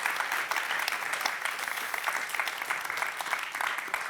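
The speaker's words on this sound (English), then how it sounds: "Warm applause for Nancy Foner, Else Schouw." An audience at a talk on immigration and society gives warm applause, a dense, even wash of many hands clapping that holds at a steady moderate level throughout.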